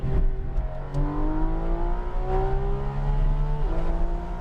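A Porsche GT3 RS accelerates on the Portland race track, its engine note climbing steadily and loud. There is a brief dip, like a gear change, before it pulls on again.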